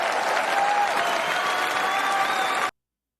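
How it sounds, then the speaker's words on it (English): A rally crowd awaiting Donald Trump cheers and applauds loudly, a dense steady roar of clapping and shouts with a whistle, cutting off abruptly after under three seconds. "That was just general cheering."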